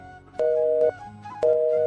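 A phone's call-ended tone sounds as two loud, steady electronic beeps about half a second long, separated by a short gap, clear and close with no talking.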